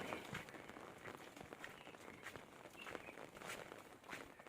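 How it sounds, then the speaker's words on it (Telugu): Steady broadband patter of heavy, nonstop rain falling in a village, with scattered louder drops and splashes throughout, no voices. "వర్షం అయితే నాన్ స్టాప్ కొడుతుంది పొద్దున్న నుండి"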